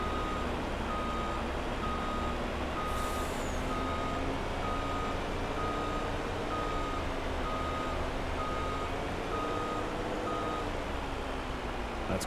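A truck's reversing alarm in Farming Simulator on the Iowa Plains View map beeps in a steady, evenly spaced rhythm for the whole stretch, riding over a constant low engine drone with no talking.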